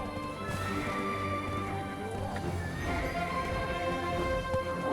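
Horse ridden in the Black Desert Online video game, a steady stream of hoof clip-clops under dense game music and ambience, no talk.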